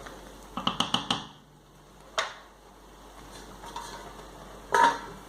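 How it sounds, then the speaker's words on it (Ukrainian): A utensil scrapes and clinks against a cooking pot of zucchini and vegetables for ketchup in a few quick strokes, then occasional single knocks, with a soft simmer underneath. "ставимо на вогонь, доводимо до кипіння, збавляємо вогонь до мінімального і періодично помішуючи, готуємо 30 хвилин"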